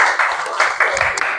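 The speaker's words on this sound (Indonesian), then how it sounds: "Oke, kasih tepuk tangan." A classroom of students breaks into brief, lively applause, a quick burst of overlapping claps at close range that rises and falls over about a second.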